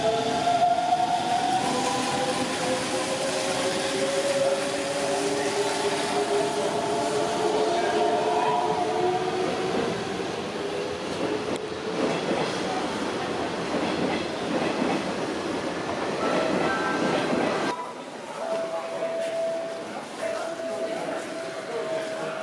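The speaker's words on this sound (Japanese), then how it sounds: "2番線から電車が発車します。" A Hanshin Mukogawa Line train departs from platform 2, rumbling and clattering at the station with a long whistle-like tone and steady rolling noise, while a Japanese announcement speaks over it.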